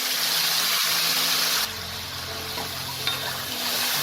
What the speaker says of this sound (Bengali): এখানে আমি 2 চামচ আদা জিরে কাঁচা লঙ্কা বাটা দিয়ে দেবো।